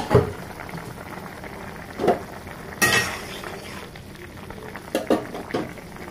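A lid comes off a pot of shrimp and turnip cooking on the stove, giving a few faint metallic clinks and knocks spread over a quiet background of low bubbling.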